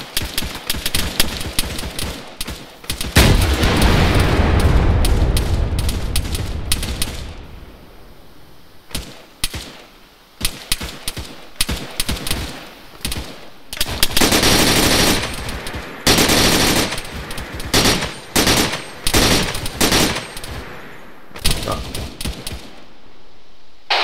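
Machine gun fire in ARMA 3: long, loud, close bursts of rapid shots, a sustained roar of fire, then a pause and more choppy bursts with echoing reports, with no talking.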